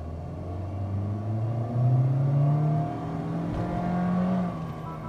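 Modified Honda Civic engine revving in sport mode: a low, steady rumble rises and eases in a couple of swells, heard close, with no talk over it.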